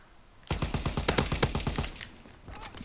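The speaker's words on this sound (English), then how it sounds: "Oh, Lord Jesus, I was getting shot." Rapid automatic gunfire in Call of Duty WW2, a dense burst of about a dozen close, loud shots lasting around a second and a half, then a brief scattered crackle of further shots.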